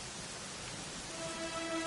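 Steady rain in the Dragon Quest XI video game, a soft, even hiss of falling drops that holds throughout at moderate volume, with a faint musical tone emerging near the end.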